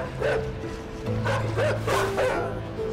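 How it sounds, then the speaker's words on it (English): A fierce, slim dog in the video game INSIDE barks and yips in several sharp bursts during a chase, sounding fairly close over a droning game soundscape. "while the fierce slim dog chased him."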